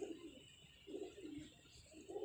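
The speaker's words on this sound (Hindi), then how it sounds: "ये मेरा खुडे का बहादुर कबूतर चीना" A pet pigeon named Cheena coos softly and close, a few low throaty rolling coos repeating in a gentle rhythm.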